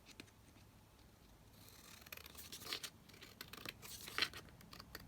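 Scissors cut paper for an envelope folio journal in a run of soft, close snips and crisp slicing strokes that grow louder toward the end, with no talk.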